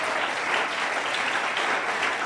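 A church congregation applauds in a dense, continuous wash of clapping, steady and fairly even for the whole stretch with no talk over it.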